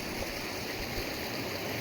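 A river near the Tamil Nadu–Kerala border on the road from Udumalai to Marayur flows with a steady, soft rushing wash, continuous and fairly faint with no voices.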